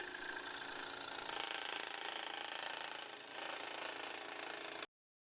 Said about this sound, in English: the scroll saw seems like the least annoying and dangerous way to cut that